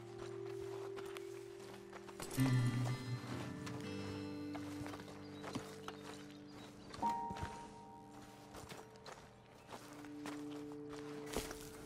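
Horses' hooves in Red Dead Redemption 2 plod in soft, uneven steps beneath sustained musical tones and outdoor ambience, with a few louder thunks along the way.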